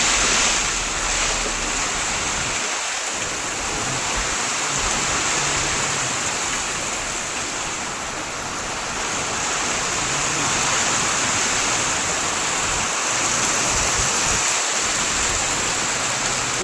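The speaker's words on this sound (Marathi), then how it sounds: "जोराचा पाऊस आलेला आहे." A dense, steady roar of heavy rain pours without letup, loud and close, with occasional low thumps and no voices.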